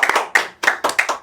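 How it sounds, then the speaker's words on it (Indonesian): Short burst of audience clapping at a talk event, loud and close, with several quick claps in uneven rhythm, alone without speech. "Oke, tepuk tangan buat pasuruan inspiratif."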